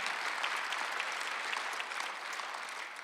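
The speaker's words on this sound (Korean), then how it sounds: "아, 박수 좀 세게 쳐요." A church congregation at a Sunday worship service claps together in a dense, even wash of applause, fairly quiet and continuous for a few seconds with no speech on top.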